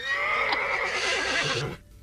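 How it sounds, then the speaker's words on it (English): Horse neighing: one loud, close whinny lasting under two seconds, with a shrill rising start and a shuddering fall before it cuts off. "Horse. Correct."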